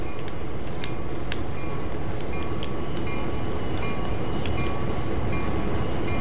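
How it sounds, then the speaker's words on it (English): A GP38-2 or GP9RM diesel locomotive in Train Sim World coupling to railcars, with a loud steady rumble and scattered metallic clanks and squeals. No talking. "So now the whole train is coupled."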